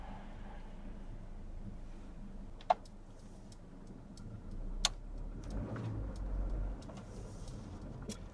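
A car turns right during a mock driving test, heard from inside as a low, steady engine and road rumble with faint wind noise and a couple of sharp isolated clicks, with no talking.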